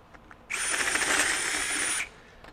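A DeWalt DCD794 Atomic 20V brushless stubby drill driver with a self-feed auger spins up abruptly and drills with a steady high whine for about a second and a half, then cuts off, close and loud.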